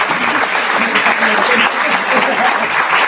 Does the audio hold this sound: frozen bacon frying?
no